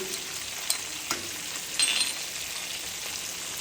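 Fish heads frying lightly in oil with cumin and coriander powder, a steady soft sizzle with a few brief clinks and stirring scrapes throughout.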